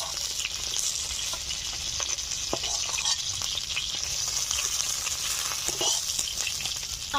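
Pieces of big sea fish (skate) sizzle loudly in hot oil: a constant bubbling hiss peppered with sharp crackles and pops, close up and uninterrupted by talk.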